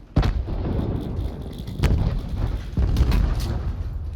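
Automatic weapon fire in Call of Duty Blackout, a few sharp, heavy bursts at close range with booming reports cutting through the game's rumbling background.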